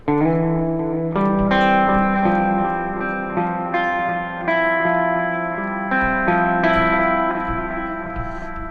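Clean electric guitar chords through a Fender Deluxe Reverb amp preset ring out with a warm, spring-reverb tone, strummed steadily and alone, each chord sustaining into a soft reverberant tail.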